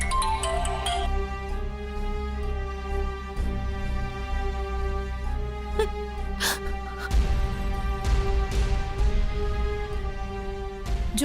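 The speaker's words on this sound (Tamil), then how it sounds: "மொச நீ இந்த புள்ள ஜோதிக்கு ஃபோன் பண்ணி பாரு." A phone rings on an outgoing call in a Tamil TV serial scene, a steady repeating electronic ring tone over background music.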